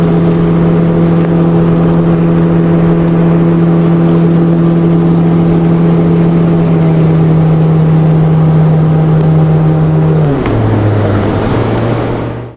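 A boat motor drones loudly and steadily on the waters of the Danube Delta, holding an even low pitch before the tone drops and shifts toward the end, with no voices over it.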